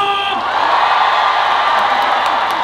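A big outdoor crowd at the Danyang Sobaeksan azalea festival concert cheers and whoops loudly as a steady wall of sound, following a brief shouted call from the stage.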